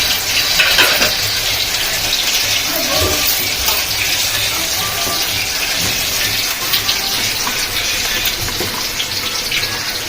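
Boneless fish pieces frying in hot oil, a steady dense sizzle running throughout with faint clinks and stirring, fairly close and even in level, with a voice talking over it.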